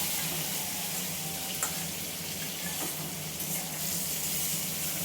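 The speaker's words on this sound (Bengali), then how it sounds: "মাথাটা ভেজে নেব ভালো করে।" A hilsa fish head fries in oil in a pan, giving a steady, close hiss of sizzling with a few faint clinks and scrapes, and no voices.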